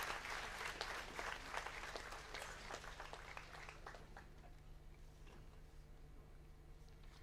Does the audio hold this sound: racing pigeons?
no